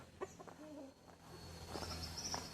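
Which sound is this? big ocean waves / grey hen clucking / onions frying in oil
grey hen clucking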